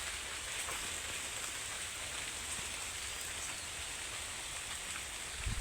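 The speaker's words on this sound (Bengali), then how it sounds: "বৃষ্টি কিন্তু নামতে এসে গেছে" Steady rain falls on a morning street, a dense even hiss of drops with no breaks and no voices over it.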